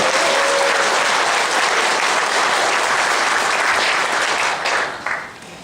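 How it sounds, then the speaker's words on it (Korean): Loud, enthusiastic applause welcomes guests at a meeting between shuttle bus workers and the Seoul mayor, a dense sustained clapping that fills the room and tapers off toward the end. "힘찬 박수로 서로 환영해 주십시오"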